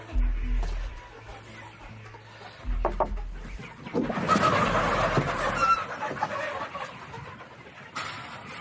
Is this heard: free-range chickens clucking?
yes